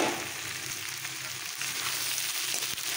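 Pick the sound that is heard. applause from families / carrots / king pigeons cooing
carrots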